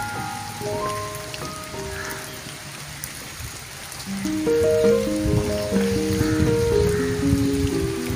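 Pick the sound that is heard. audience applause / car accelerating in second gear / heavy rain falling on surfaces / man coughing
heavy rain falling on surfaces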